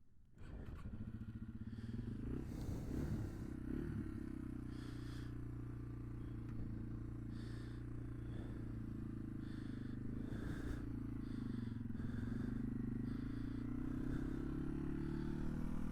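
A 2025 Yamaha TW200 motorcycle being ridden on a lunch-break ride, its single-cylinder engine droning steadily up close with shifting revs, rattles and occasional clatter, and no talk over it.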